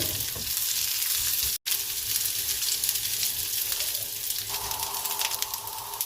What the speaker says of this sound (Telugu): వీటిని ఇలా టర్న్ చేసుకుంటూ అన్ని పక్కల తాలింపు కోట్ అయ్యే వరకు చూసుకోవాలి.